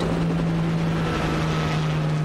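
Helicopter in the video game Resident Evil 4, a steady loud rotor and engine drone with a constant low hum, close and unbroken.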